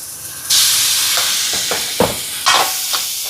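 Ginger garlic paste sautéing in a pan, a loud steady sizzle broken by several scraping stirs of a spoon, close up, with no talking.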